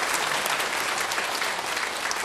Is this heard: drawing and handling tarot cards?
no